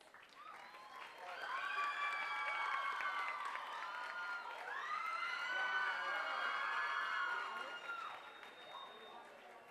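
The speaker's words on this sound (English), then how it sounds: "let's give him another round of applause" A large audience applauds steadily for about ten seconds, with shouts and cheers rising over the clapping, at a CHCI leadership event honoring actor Wilmer Valderrama.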